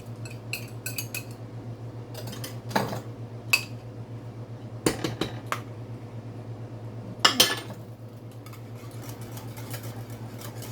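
A metal utensil scrapes and clinks against a cooking pot while a hamburger casserole cooks. Sparse, sharp knocks and scrapes come close and fairly quiet over a steady low hum, with no talking.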